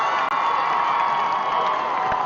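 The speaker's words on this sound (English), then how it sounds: "You hear the cheer from the crowd." A crowd cheers in the stands at a high school football season opener, a steady, loud wash of shouting and whooping with no break, heard from within the stadium.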